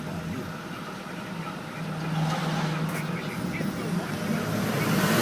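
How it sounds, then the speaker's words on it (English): Truck engine droning steadily from inside a cab while following another truck on the road, with a low, rising rumble and road noise throughout; a voice speaks over it at times. "He's driving the truck in front of me."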